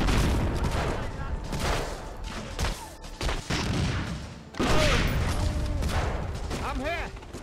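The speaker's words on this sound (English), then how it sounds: "Is that tank shooting at me now?" Gunfire and explosions in the World War II shooter game Medal of Honor: Frontline, with a tank firing: dense rattling fusillades and heavy thuds keep going throughout, with a player's voice talking over the game at times.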